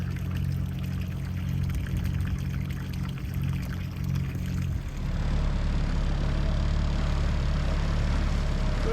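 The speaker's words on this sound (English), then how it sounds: "We're pulling up to the dinghy dock at Kings Bay Park." A dinghy motors up to the dinghy dock at Kings Bay Park, its steady outboard drone and water rush filling the scene, shifting in tone partway through as it slows near the dock.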